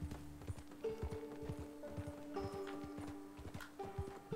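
Steady clip-clop of horse hooves in Red Dead Redemption 2, an even walking rhythm over a sustained droning tone, with no talk over it.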